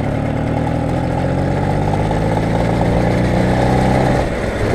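A moped (French Mobylette, a Peugeot 103 on a long road trip) runs its engine steadily at a low idle close by, a buzzing harmonic drone that shifts slightly near the end.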